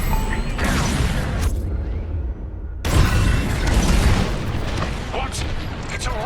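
Bombs detonating in the Star Wars Squadrons space combat game, loud rumbling booms and blasts layered over dense game noise, with a brief drop before a fresh heavy burst of explosions.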